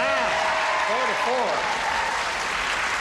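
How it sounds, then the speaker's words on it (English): Studio audience applause on a television game show, a steady wash of clapping throughout, with a voice talking briefly over the start. "1, 2, 3, 4. Applaud."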